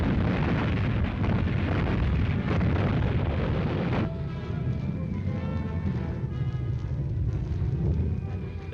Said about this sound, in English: There go the oil tanks